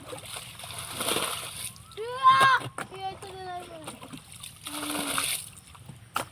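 Water being bailed and splashed out to catch fish, bursts of sloshing and splattering come and go between pauses, while a voice talks over the middle of it.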